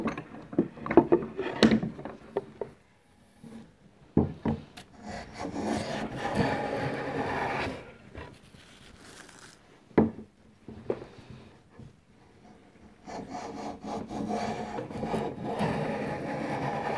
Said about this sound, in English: we'll pop them into the vise now and get these edges perfectly square and flat, which will give me a really good glue joint